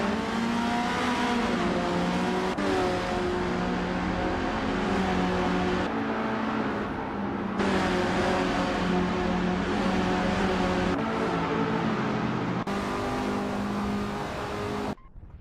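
Race cars in a 1975 Metalex MTX 103B race roar steadily at full throttle, layered engine tones rising and shifting through gear changes, loud and continuous with no talk.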